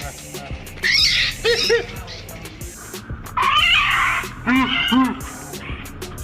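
A cat meows several times in drawn-out, wavering cries, close by, with short pauses between calls and a faint background hum.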